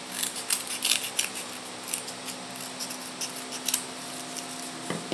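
Scissors snip through cardboard while trimming a piece for a cardboard village craft, producing a quick series of close, crisp cuts, clustered early and then spaced out.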